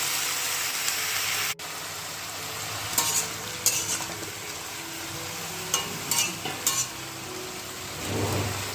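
Figs being stirred and fried in a pan for a vegetarian fig curry, with a continuous sizzle close by. Sharp scrapes and clinks from the spatula come now and then, and a brief louder hiss rises near the end.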